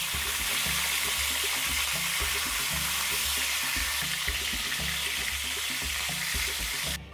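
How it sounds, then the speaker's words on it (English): Saltfish (makayabu) fries in a pan of oil with a steady, dense sizzle that runs throughout, close and continuous, with faint stirring clatter and no talk. "So I'm frying them on each side until they turn golden."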